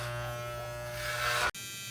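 Electric hair clipper set to a zero guard buzzes steadily and close, rising slightly in pitch before cutting out for an instant and starting again.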